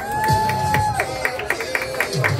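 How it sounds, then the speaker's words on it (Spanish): An audience at the grand final of an improvisers' competition claps and cheers in scattered bursts while a voice carries over the top, the noise moderately loud and close. "un fuerte aplauso para nuestra querida Jack"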